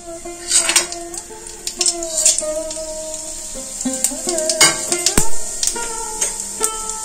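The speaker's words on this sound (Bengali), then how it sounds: "এগুলো তেলের মধ্যে দিয়ে দেব।" Whole spices, split large cardamom, cloves, cinnamon and cumin, drop into hot oil in a pan, giving a sizzle with scraping and clinking of a utensil against the pan, plus steady tonal background music throughout.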